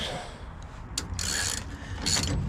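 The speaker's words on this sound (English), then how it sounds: "I'm just gonna snug up these U-bolts" Short bursts of ratcheting clicks sound as a ratchet snugs U-bolts on the rear axle of a 1965 C10 truck, two or three quick runs close by with no talking.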